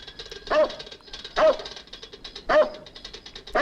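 A dog in a film barks three times at even intervals, each a short, bright bark with a whimpering edge, at moderate distance over quiet background.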